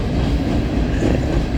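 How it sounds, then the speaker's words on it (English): A Norfolk Southern coal train of black hoppers led by locomotive 4017 rolls past close by, giving a loud, continuous rumble and wheel clatter with no voices. "NS coal train with a leader of the number 4017."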